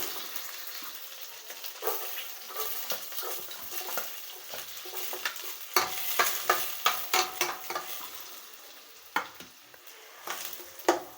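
Chopped onions sauté in a hot pan, a continuous close sizzle broken by frequent scraping clicks and taps as a spatula stirs them, with no voices.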